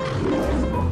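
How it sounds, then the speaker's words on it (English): A lion's roar in a cartoon animal-sound guessing game, one short, loud, throaty growl filling the brief moment. "lion,"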